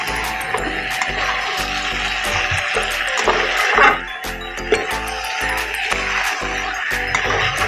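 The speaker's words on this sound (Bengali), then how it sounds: "যতক্ষণ না এর মধ্যে থেকে তেল ছাড়ছে ততক্ষণ আমি এটাকে কষাবো" Steady frying sizzle as a spiced mixture is sautéed in oil over a raised flame until the oil separates, with soft scraping and stirring knocks repeating throughout, fairly close and continuous.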